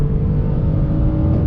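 A 2020 Toyota Avalon TRD, a front-wheel-drive full-size sedan, pulls hard on throttle, its engine holding a steady, loud, close-up drone with a low rumble under a rising tone, no talk over it.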